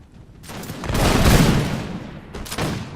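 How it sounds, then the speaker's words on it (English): French chasseur units fire musket volleys in Napoleon Total War, a dense crackling fusillade that swells over a second into a booming rolling mass, fades, then a second smaller volley follows. "We also have France's chaser units firing down on his Jaegers"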